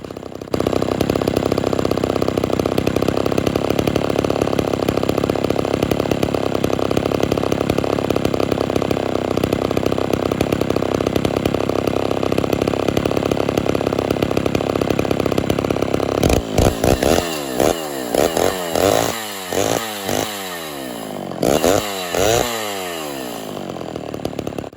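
A Homelite Super XL chainsaw, freshly repaired and tuned slightly rich, runs loud and close at a steady high idle, then revs up and down repeatedly in sharp bursts near the end.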